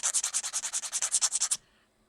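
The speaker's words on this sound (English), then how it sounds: "put the file like this underneath the bottom part of the nail to get rid of any of that" A nail file scrapes under the edge of a fingernail in quick, even back-and-forth strokes, about fifteen close, crisp rasps in a steady rhythm before stopping.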